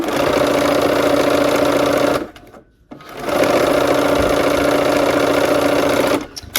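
A sewing machine stitching a fabric seam runs in two loud steady bursts of fast mechanical whirring, pausing briefly in between before starting up again and then stopping.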